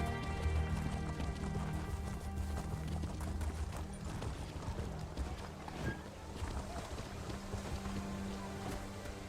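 Horse hooves clip-clop in a steady galloping rhythm in the Elder Scrolls Online video game, Morrowind chapter, set in Balmora, continuous and moderately close under soft ambient wind.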